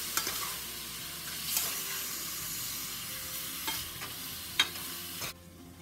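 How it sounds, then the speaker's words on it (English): Crawfish with shrimp, smoked sausage and creole seasoning sizzle in a pan while being stirred, a steady frying hiss with scattered spoon scrapes and clicks, close and moderately loud, ending abruptly. "And we're going to add in a half a tablespoon of creole seasoning, or you can use cajun seasoning, and give this a quick stir."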